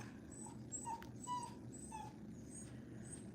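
Dogs whimper and yip softly in short high-pitched bursts over a steady low background rumble; the sounds are faint and distant, with no speech.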